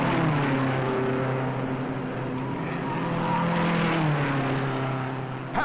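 Race cars at the start of the 1957 Indianapolis 500 roar past in a dense, sustained engine drone, loud and steady with shifting pitch as the field accelerates away.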